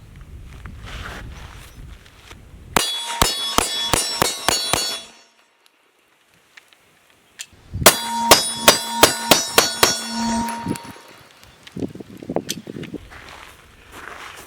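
Handgun fire rings off steel targets in two rapid strings of roughly eight shots each. Every sharp crack ends in a bright metallic clang, and a quiet pause separates the strings.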